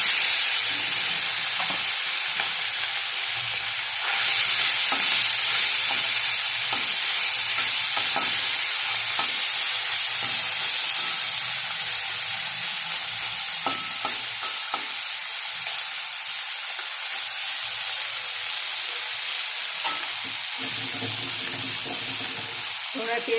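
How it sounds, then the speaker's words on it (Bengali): Small morola fish frying in a pan give a constant loud hissing sizzle that runs unbroken throughout, with faint clinks of stirring. "এবার এই মোরলা মাছটা ভাজবো।"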